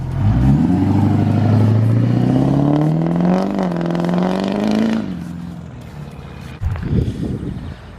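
A Duramax LML diesel truck built to 730 horsepower revs hard nearby, its deep engine note climbing steadily and holding high before dropping off, followed by a lower rumbling idle with a brief clattering surge.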